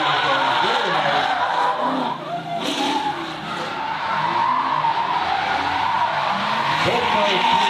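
Two drift cars run side by side in a competition at SRD Drifting the Plains, with sustained loud tire squeal and skidding over roaring engines while an announcer talks over the action.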